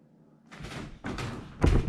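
A household drawer is pushed shut with two or three quick wooden thumps and knocks, each louder than the last, in a quiet room.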